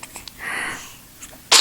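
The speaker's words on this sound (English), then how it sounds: "It's a happy sneeze." A baby, about eight weeks old, sneezes once, close and loud, near the end after a few faint soft sounds.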